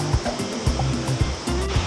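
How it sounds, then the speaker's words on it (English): A waterfall in full flow roars below a cliff-edge lookout after heavy rain, a loud, steady rushing wash heard close by with no voices. "the waterfall is absolutely pumping"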